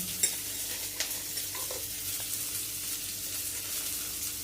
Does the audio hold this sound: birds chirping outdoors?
no